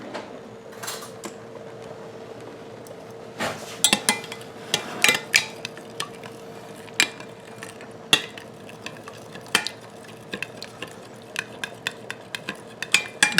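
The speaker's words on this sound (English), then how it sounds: "I'm going to stir that up." A utensil stirs a sauce seasoned with nutmeg for baked macaroni and cheese, giving irregular clinks and scrapes against the pot over a low steady hum, with no talking.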